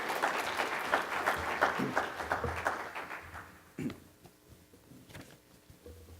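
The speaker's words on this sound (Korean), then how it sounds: "한 박수로 우리 한번 환영해 주시기 바랍니다" A church congregation applauds to welcome a speaker forward, a dense burst of clapping that fades after a few seconds into scattered claps and light room noise.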